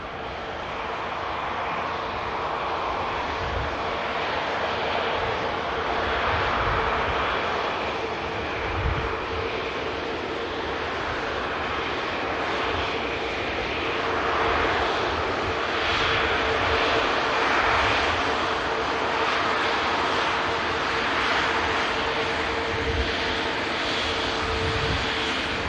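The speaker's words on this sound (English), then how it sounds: "Soul Rebel Airbus A350" Virgin Atlantic Airbus A350 jet engines at Manchester Airport, a loud steady roar with a broad rushing whine that swells gently and carries on unbroken throughout.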